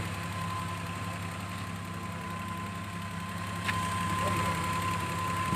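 A car engine idles steadily after a swapped-in Toyota Crown engine was fitted, giving a constant low hum with a faint tonal whine and a slight bump in level near the end.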